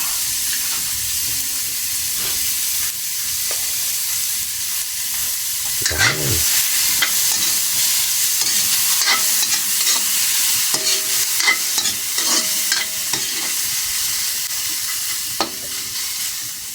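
Food sautés in a pan while being stirred, a continuous loud sizzle with scraping stirs and clatter of the utensil against the pan throughout.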